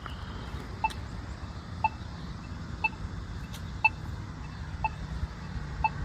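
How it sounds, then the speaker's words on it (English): A pedestrian crosswalk button ticks steadily about once per second, each sharp tick clear above a low hum of street background, with no talking. "It's like ticking away."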